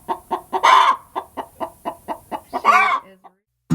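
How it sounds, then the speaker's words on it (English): An agitated chicken on a farm clucks in a rapid, regular run of loud, close calls, broken by two longer squawks, with no speech. "we've got a mad chicken."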